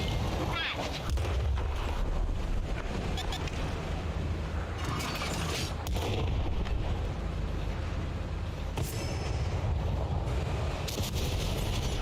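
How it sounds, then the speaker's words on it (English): High-explosive shells striking a tank in a game, a run of heavy booms and sharp bursts over a constant low rumble, with several distinct impacts spaced across the span and occasional faint speech. "now we're getting hit by high explosives"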